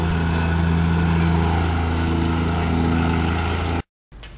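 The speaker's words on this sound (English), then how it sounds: "He's tamping down the ground, making it more firm so that it won't settle" Ground is tamped down for a pool slab under the loud, steady drone of a nearby engine that holds constant for several seconds before cutting out briefly.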